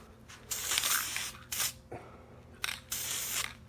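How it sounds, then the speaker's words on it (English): Several short hissing bursts from a spray paint can, each lasting about half a second to a second, close up with brief pauses between them. "use it very sparingly as a spray paint"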